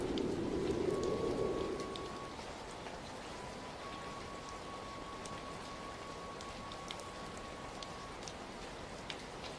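Steady rain falls at night, an even soft hiss of drops with a brief louder low rumble at the start, then calm and fairly quiet for the rest, no voices.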